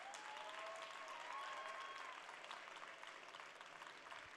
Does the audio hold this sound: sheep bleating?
no